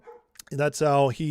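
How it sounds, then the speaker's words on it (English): Dogs bark briefly near the start, faint, before loud nearby speech takes over and runs through the rest of the moment. "sorry about the dogs"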